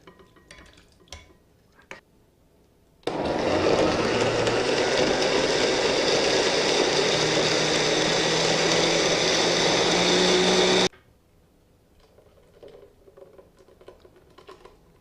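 A blender purees butternut squash soup in one continuous loud whirring run of about eight seconds, starting and stopping abruptly, with quieter kitchen clatter before and after.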